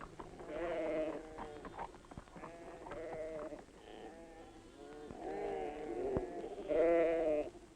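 Sheep bleating in Australian pastoral country: repeated loud, wavering bleats from several animals at close to middle distance, coming in bursts with brief gaps and overlapping calls.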